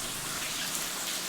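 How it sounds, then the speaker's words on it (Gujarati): Heavy rain pouring at night in a dense, steady hiss of drops hitting surfaces, close and continuous throughout. "વરસાદ હાડામાળો ચાલુ થઈ ગયો છે"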